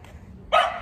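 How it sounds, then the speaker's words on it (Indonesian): A dog barks once, loud and close, at night outside during a Pizza Hut pizza delivery, a single sharp bark after a brief quiet lull. "Anjingnya menggonggong terus."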